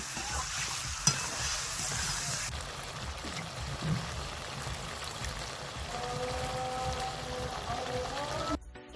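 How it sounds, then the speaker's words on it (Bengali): Rohu and other fish coated in spiced, turmeric-tinged masala sizzle steadily in a pan, with stirring and a few scraping clicks up close. A voice is faintly present. "মাছটা এইভাবে কষিয়ে নিব"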